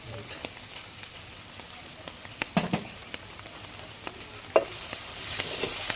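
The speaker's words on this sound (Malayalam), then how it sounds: "നല്ലോണം ഇളക്കി മിക്സാക്കുക" Chicken kondattam fries in a pan with crushed chilli while being stirred: a steady soft sizzle with occasional scraping clunks of the spoon against the pan.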